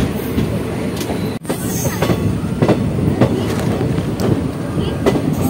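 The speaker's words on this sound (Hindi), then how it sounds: "निकल चुकी है अपनी ट्रेन" The Delhi Haridwar Express pulls out of a station, loud and close, with rolling wheel clatter, rhythmic clickety-clack and a faint squeal building over several seconds, with no one speaking.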